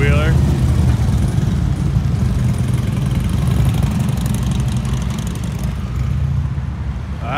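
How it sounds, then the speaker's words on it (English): A three-wheeler motorcycle idles and revs nearby on a small-town street, a steady low engine rumble holding throughout with slight swells, voices faintly present underneath. "let's get some engine revs"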